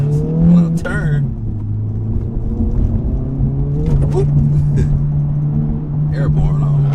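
Acura Integra Type S pulling hard up a highway on-ramp, its engine note climbing steadily from inside the cabin while road rumble fills the background and the driver talks over it.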